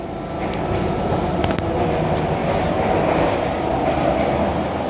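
Steady rumble of a Bias airport train carriage without air conditioning or fans rolling along the track, with continuous low mechanical noise and faint rattling throughout, no voices.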